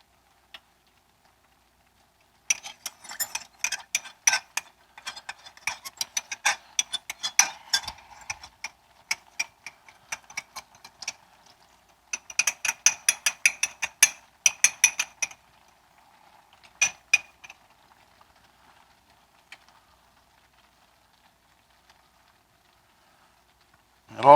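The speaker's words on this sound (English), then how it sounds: "Stir it around, and it'll start to thicken that liquid up." A utensil stirs thickening sauce in a pan while cooking chicken and snow peas, making quiet, irregular clinks and scrapes in bursts with pauses between them.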